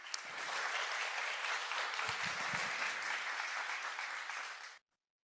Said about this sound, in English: Can we just give a round of applause for Anushka?